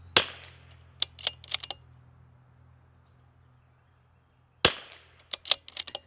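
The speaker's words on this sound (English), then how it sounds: "We're gonna shoot this through the CZ, and we're shooting Ely match because we're gonna get a baseline." Two sharp rimfire reports from a CZ rifle fitted with a Muller Works barrel and Timney trigger, firing Eley match ammunition, each crack followed by several quick echoes, with about four seconds of quiet between the shots.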